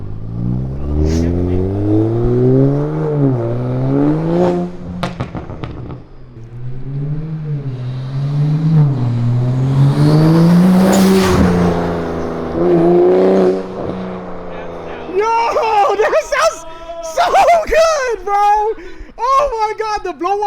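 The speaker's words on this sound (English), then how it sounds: "the blowout valve is so nasty" Toyota Supra fitted with an HKS blow-off valve and RK titanium exhaust revs hard, engine pitch rising and falling through repeated pulls with sharp whooshing bursts, while people talk and shout excitedly nearby.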